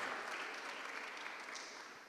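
An audience claps continuously at a live singing competition evening, a steady wash of applause at moderate volume filling the whole moment without pauses.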